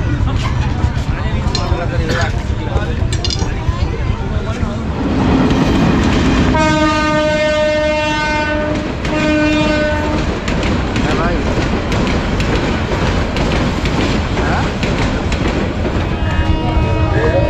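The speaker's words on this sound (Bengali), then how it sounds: "এখন যে ট্রেনটা যাচ্ছে এখানে" A passenger train heading toward Teesta rolls steadily past with a loud rumble and rattle, sounding two long horn blasts midway, while people talk faintly in the background.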